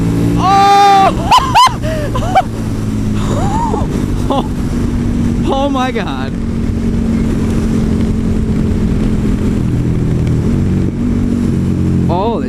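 A 2016 KTM Super Duke 1290 with its stock exhaust revs in sharp, rising bursts early on, then settles into a loud, steady, throbbing idle. A man exclaims briefly over it.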